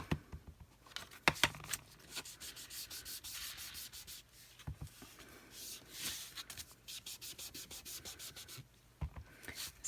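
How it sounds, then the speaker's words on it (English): A sponge dauber rubs ink around the edges of a paper card base, giving soft, close scratchy rubbing strokes in irregular bursts with a few sharper taps, quiet and with no voices. "I'll grab my sponge dauber and just go around the edges."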